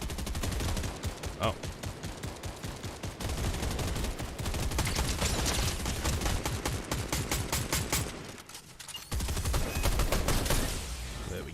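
Dense bursts of rapid automatic gunfire in a Fortnite match, loud and nearly continuous with a short lull before another volley, and a brief voice over the shooting.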